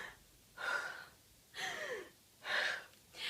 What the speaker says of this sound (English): This loud gasp of breath is so effortful